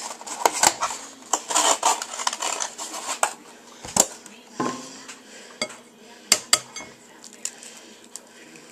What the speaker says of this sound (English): And now I'm going to add